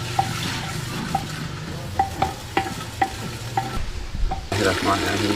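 About a kilo of mutton sizzles in a pot while being fried for haleem, a steady soft frying hiss broken by a series of sharp scraping clinks from a stirring spoon, close and fairly quiet.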